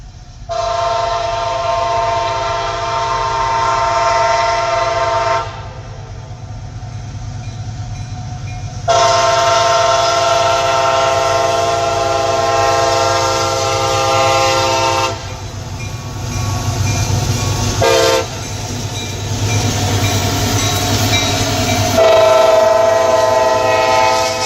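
A heavily loaded freight train rolls past on a railroad, its horn blaring in long, loud blasts over the steady rumble and clatter of the cars.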